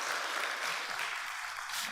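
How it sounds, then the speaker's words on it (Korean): A church congregation applauds to welcome guests during a Sunday worship service at Union Evangelical Church; steady, soft clapping fills the room evenly from start to finish. "박수로 환영하겠습니다"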